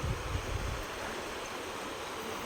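A river flows steadily during a crossing on a grass-cutting trip, a continuous broad rush of water with a rumbling surge at the start and no voices.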